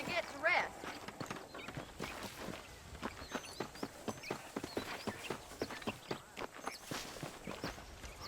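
Rhythmic horse hooves clip-clop steadily on the ground in Red Dead Redemption, a run of regular footfalls that continue through the whole stretch, with a brief louder burst near the start.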